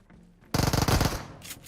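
Gunfire in the video game PUBG Mobile: a single loud, rapid automatic burst erupts after a quiet start, rattles for about half a second, then tails off into a fading echo, with no voices.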